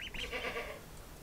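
Goats on a farm let out a short, nasal bleat, close and moderately loud, then fade into quiet background noise.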